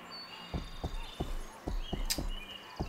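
Steady clip-clop of a horse's hooves in a medieval GTA-style video game, about eight evenly spaced thuds at a walking pace, fairly quiet, with a brief higher tone near the end.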